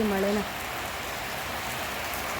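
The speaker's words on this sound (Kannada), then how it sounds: "ಎಷ್ಟೊಂದು ಮಳೆ ಬರ್ತಿದೆ" Heavy rain pours outdoors in a steady, loud, broadband hiss that fills the clip, with a brief voice at the very start.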